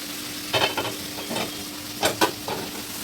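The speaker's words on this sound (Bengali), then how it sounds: "এই যে লাউটা নুন দিয়ে একটু ভাজা ভাজা হয়ে গেছিলো" Bottle gourd frying with salt in a pan, with several short bursts of scraping and stirring over a steady low sizzle, close and moderately loud.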